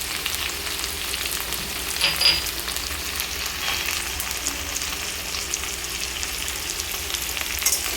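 Drumstick pieces stirred in a pan with salt and Kashmiri red chili powder: an even, close frying hiss with faint scraping of a spoon, steady throughout with a couple of slightly louder moments.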